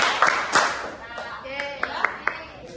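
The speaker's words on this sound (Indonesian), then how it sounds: "Tepuk 1 kali, 2 kali, 1 kali, 3 kali." Students in an elementary math class clap their hands in a counted pattern: a few sharp, separate claps at first, then a quicker cluster of distinct claps near the end, with quiet gaps between them.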